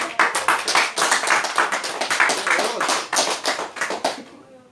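A church congregation claps along during a Spanish-language sermon, producing a loud, steady rhythmic run of hand claps that continues for several seconds with no talk over it.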